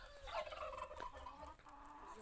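A bird's gobbling, fowl-like calls sound close over steady outdoor noise, short and busy for a couple of seconds.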